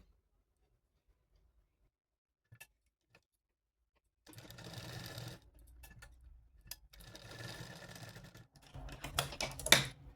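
A sewing machine stitches two pieces of a small Laddu Gopal doll dress together in bursts after a quiet start, with two runs of stitching and a brief pause between them.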